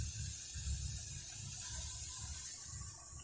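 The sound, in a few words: water poured into frying spice paste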